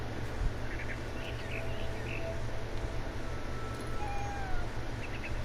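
A cat meows a few short, faint times in the video game What Remains of Edith Finch, over a steady background hum.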